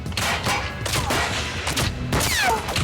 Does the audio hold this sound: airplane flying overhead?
no